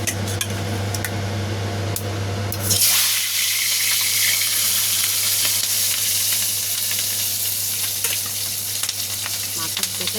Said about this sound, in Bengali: এদিকে কড়াই গরম করে কড়াইতে তেল দিয়ে দিয়েছি। এবার আমি কিন্তু মাছটা একে একে তুলে দেবো।